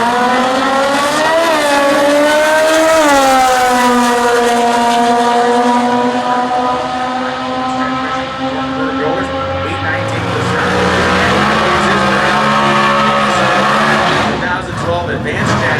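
Comp Eliminator drag racing cars, including a 1923 Ford T-Altered with a 172 cubic inch 4-cylinder Chevy engine, roar loudly at the US Nationals in Indianapolis, their engine notes rising and sustained over about sixteen seconds, with a commentator's voice over the noise.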